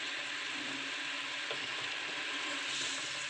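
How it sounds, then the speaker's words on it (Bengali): Egg kabab curry simmering in a pan, a steady close hiss and bubbling sizzle that holds evenly throughout with no voices. "এবার এটাকে আমি কিছুক্ষণের জন্য ফুটতে দেব, 5 মিনিটের জন্য ফুটতে দেব।"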